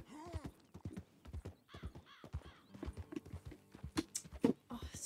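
Horse hooves clip-clop in Red Dead Redemption 2, a brisk uneven run of hoofbeats, joined by a whinny near the end.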